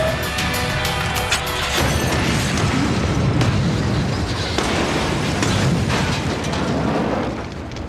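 A car bomb made of C4 wired to the ignition goes off, giving a loud, sustained roaring blast and rumble with crashing debris throughout.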